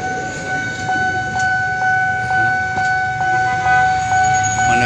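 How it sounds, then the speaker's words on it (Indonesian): The Pangrango passenger train rumbles nearby departing Bogor station for Sukabumi, with a steady two-tone horn or whistle held throughout, and faint rhythmic clicks of wheels over rail joints. "Kereta api Pangrango dari stasiun Bogor."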